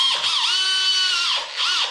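Power drill boring a hole while tiling a bathroom, a loud steady whine that dips briefly as the bit bites, then winds back up, close and alone.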